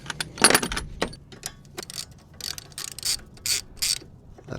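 Wrench loosening a 14 mm brake line bolt on a 1998-2002 Toyota Corolla front caliper: a sharp metallic pop, then a series of close ratchet clicks and clanks in short bursts, with no speech.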